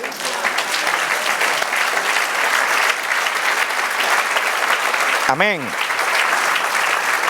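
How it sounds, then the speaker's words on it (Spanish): Church congregation at a Spanish-language service clapping loudly and steadily throughout, with a voice calling out once over the applause. "Dale un aplauso al Señor."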